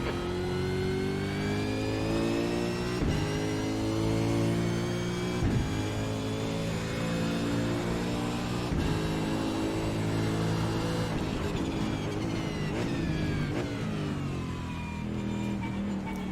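Racing cars in a racing video game drone steadily around a track, a continuous engine whine with shifting pitch and occasional gear changes, no voices.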